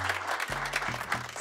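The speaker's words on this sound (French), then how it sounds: "Est-ce qu'on peut s'applaudir très, très, très fort?" Applause from a live audience at the close of a comedy driving-school sketch, a short burst of clapping with a low tonal hum running underneath.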